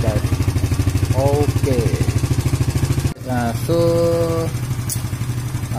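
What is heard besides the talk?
EVO Z motorcycle engine idling to warm up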